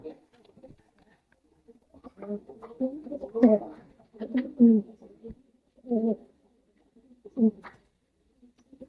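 Pigeons coo in short bursts of low, throaty calls, several separate phrases close by with gaps between them; a person is talking nearby.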